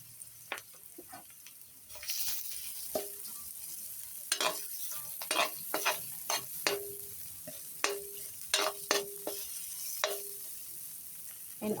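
Ginger and onion sizzle in a pan for a vegan chickpea coconut curry, a quiet steady fry broken by repeated sharp scrapes and taps of a spoon as it is stirred.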